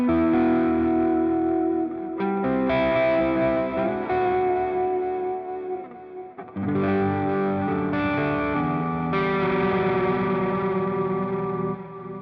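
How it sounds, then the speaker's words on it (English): Distorted electric guitar phrases ring out through a NUX MG 50 Li stereo pan delay effect, notes repeating and trailing off, with a swirling, echoing quality between bursts of playing. "next up we've got pan delay. So you're going to start hearing the stereo effect of this unit."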